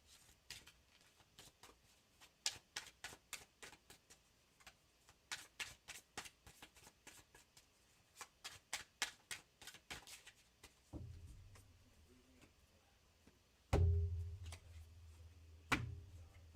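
Tarot cards given a sloppy shuffle during a live reading: a quiet, rapid run of light card flicks and taps, followed by a few duller thumps and handling noises toward the end.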